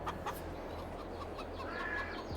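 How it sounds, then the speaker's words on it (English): Chickens cluck in the farming video game F4RMH4RD 5, with several soft, short clucks scattered over a constant low mechanical drone. "Feed them chickens."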